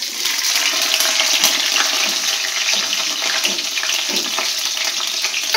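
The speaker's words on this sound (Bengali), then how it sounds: "তো এই যে তেল গরম হয়ে গেছে এখানে, আর তেলের মধ্যে দিয়ে দিলাম পাঁচফোড়ন।" Panch phoron five-spice hits hot oil in a pan and sizzles loudly and steadily, a dense, close crackling hiss that runs the whole time with no talking.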